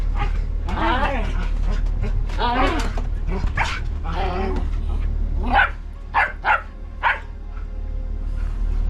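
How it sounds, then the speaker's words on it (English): A small dog aboard a boat on the North Channel near Heywood Island yips and barks in a few short bursts, close by, with people talking over and between the barks. "As soon as she barks, as soon as she barks, she has to get down."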